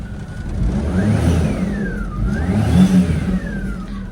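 A small kei car engine with 221,000 kilometers revs up and down twice at a Japanese auction, a steady whirring drone rising and falling in pitch, close by with no talking.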